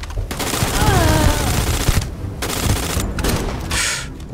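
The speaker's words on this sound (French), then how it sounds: "Ouvrez le feu ! Tout de suite !" Rapid gunfire bursts from a bank robbery shootout in the video game Starfield, dense crackling volleys filling the scene, with broad noisy bursts and brief pauses between them and no talk.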